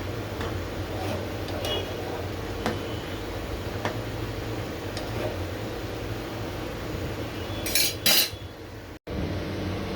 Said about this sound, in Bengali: তারপরে পুঁই শাকটা দিয়ে এখন নেড়ে চেড়ে দিচ্ছি।